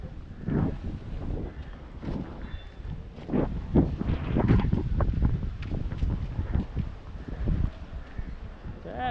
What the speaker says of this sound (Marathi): खतरनाक वादळ चालू आहे केडला